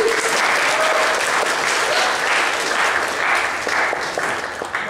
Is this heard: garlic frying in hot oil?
no